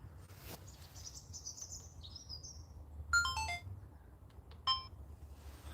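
A DJI camera recording beside a phone at a fishing spot gives off short electronic chirping alert tones, a rising warble and then two brief beeping bursts, faint against a quiet outdoor hiss.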